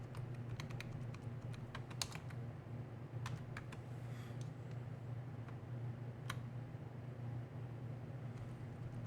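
Typing on a computer keyboard, quiet irregular key clicks in quick bursts with pauses over a low steady room hum, no talking.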